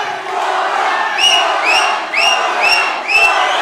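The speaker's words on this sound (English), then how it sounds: "The crowd just erupted for Fuller there" A large MMA fight crowd at Eternal MMA cheering and whooping for Fuller, a loud sustained roar with rising whistles and shouts swelling in several waves.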